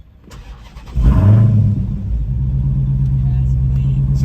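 Supercharged Dodge car with a Whipple supercharger starts with a short crank and catches about a second in, flaring loud, then settles into a deep, steady, rumbling idle up close.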